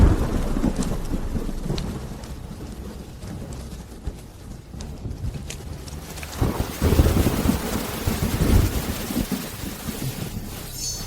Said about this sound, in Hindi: हवा का रुख बदल गया है। तूफान आ रहा है।